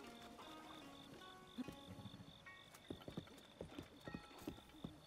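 A horse's hooves clip-clop in Zelda: Breath of the Wild, a quickening run of distinct hoofbeats over soft background music with a sustained tone, fairly close and clear.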